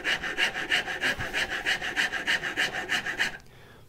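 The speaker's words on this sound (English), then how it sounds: "Grab a big rat tail, which is a round file that tapers down to the end, and file in that chamfer." A large rat tail file is drawn back and forth across a wooden chamfer on a turning saw frame, about a dozen rhythmic rasping strokes close by, then it stops abruptly.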